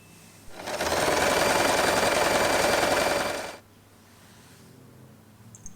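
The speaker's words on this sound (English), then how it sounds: "With the right sides together, fold the fabric in half and sew a straight line." A sewing machine running a straight stitch through fabric, one steady motor whir of about three seconds that starts and stops abruptly, close up, with quiet room sound after and no talk.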